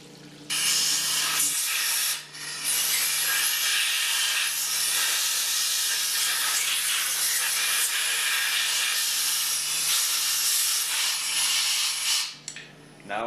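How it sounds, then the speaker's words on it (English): Compressed air blasts leftover solvent out of the crankcase of a Hypro D403 diaphragm pump during servicing, a loud, steady, close hiss lasting most of the clip with a brief dip partway through. "then blow out any solvent that may be left in the crankcase"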